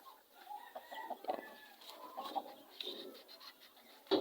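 Purebred Texas chickens clucking nearby, a scattering of short soft clucks and chirps spread irregularly over a few seconds, with a sharper call at the end.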